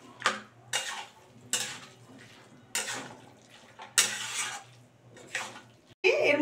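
A spoon stirs chicken keema curry with mashed potato in a pot, making repeated scraping and clinking strokes in bursts about a second apart, close and moderately loud, ending with a sharper clatter.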